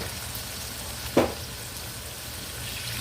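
Leftover food fries in a pan with oyster sauce, giving a soft, steady sizzle. A single brief clink of stirring stands out near the middle.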